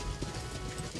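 A Mangalarga Marchador horse steps along a forest trail with no path through thick woods near Santa Luzia, Minas Gerais, its hooves thudding in a soft, quick, close rhythm over a rustling background.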